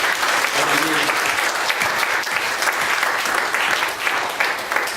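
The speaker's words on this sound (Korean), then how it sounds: "하나님 영광의 박수 올리겠습니다." Congregation clapping at a church revival evening service, sustained dense applause filling the whole stretch at steady loudness with no pauses.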